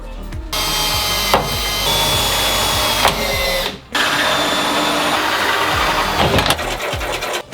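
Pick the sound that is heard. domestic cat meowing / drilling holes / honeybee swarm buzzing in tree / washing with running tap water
drilling holes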